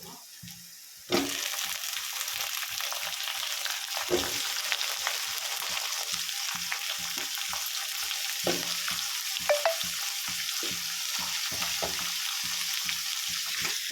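Onions and eggplant fry in a pan with a steady, close hiss. A spoon scrapes and clacks against the pan in a regular rhythm throughout, and no one speaks.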